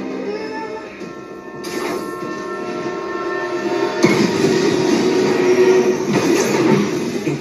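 A train running on rails in the Spider-Man 2 video game, a steady rumbling rush that swells louder partway through, with rattling and a high whine over a dense mechanical drone and no clear talk.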